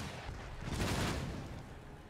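Musket volley from the Napoleonic-era strategy game Empire Total War, a single broad crackling blast of massed gunfire that swells and fades into a rumbling battlefield din.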